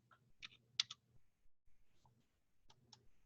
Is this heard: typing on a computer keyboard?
yes